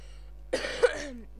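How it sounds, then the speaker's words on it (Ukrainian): A single person coughs twice in a short, close burst, a harsh throaty cough with a second louder hack just after, heard alone against a quiet low hum. "Пробачте те, що я кашляю"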